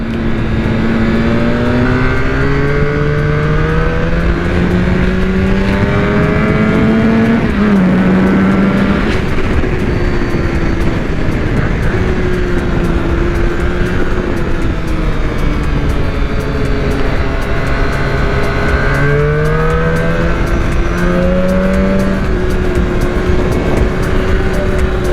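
A Honda NR750 motorcycle engine drones loudly while riding, its pitch sweeping up and down through gear changes over steady wind rush, continuous and close with no talking.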